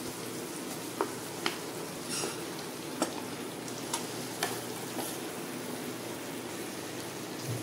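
Fried pointed gourd and potato pieces are tipped into hot masala in a pan, giving a steady low sizzle with a few sharp clinks and stirring knocks spaced every second or so, no voices.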